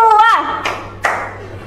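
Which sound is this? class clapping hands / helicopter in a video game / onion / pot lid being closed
class clapping hands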